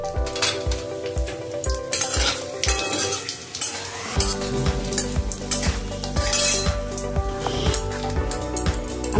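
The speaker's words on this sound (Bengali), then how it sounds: "লবঙ্গ দিয়ে দিচ্ছি, দুটো তেজপাতা, 3টে কাঁচা লঙ্কা ফোড়নে দিয়ে দিচ্ছি।" Cloves, bay leaves and green chillies with cumin seeds sizzle and crackle in hot oil while mutton kosha is being prepared. A steady loud frying hiss runs throughout, with occasional clinks of a spoon stirring against the pan.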